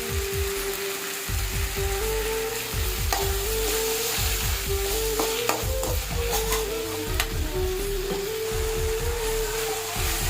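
Chopped tomatoes with salt sizzle in a hot pan while a spoon scrapes and stirs them in repeated strokes, making a steady close frying hiss broken by rhythmic clanking knocks against the pan.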